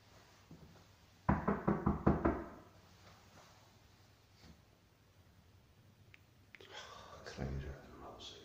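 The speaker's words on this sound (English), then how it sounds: "I've just filmed you knocking at his door." Police knocking on a house door, a quick run of about six firm raps close by, followed by quiet and then murmured talk.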